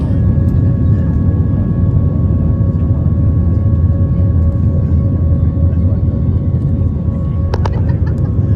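Steady low engine rumble of an airplane at a small airport before boarding, loud and continuous throughout, with faint steady tones riding over it and a brief sharp click near the end.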